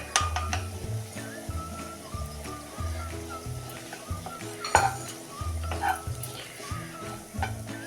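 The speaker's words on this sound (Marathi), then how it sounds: "हे पण आता थोडा वेळ परतून घेऊया" Masala paste with chili powder and turmeric is sautéed in a pan, a soft sizzle under frequent scrapes and clinks of a spoon against the metal, with music and occasional voices in the background.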